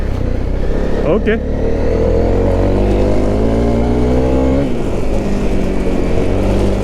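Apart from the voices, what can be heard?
motorcycle engine revving on gravel, Pirelli XC Mid Hard tyres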